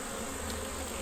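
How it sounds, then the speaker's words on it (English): Many honeybees hum around an opened hive box, an even, close buzz filling the brief moment without any talking. "Lots of bees, lots and lots of bees."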